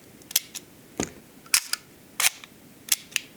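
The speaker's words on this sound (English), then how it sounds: "So a very nice shutter sound." Seven crisp mechanical clicks of the leaf shutter on an Agfa Ambi Silette film camera, each a short sharp snap, spaced irregularly and heard up close with no talking.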